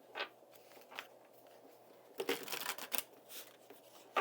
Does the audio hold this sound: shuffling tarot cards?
yes